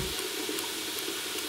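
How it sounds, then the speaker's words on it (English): Tap water runs steadily into a cooking pot being filled for pasta in a home kitchen, a continuous broadband rush with a slight hiss, close and alone without talk. "Next, we gotta get our pasta water going."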